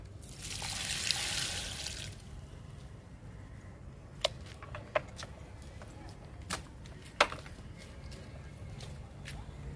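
Liquid fertilizer poured onto flowering jasmine plants makes a short burst of pouring and splashing, followed by scattered drips and soft trickles over a low background hum.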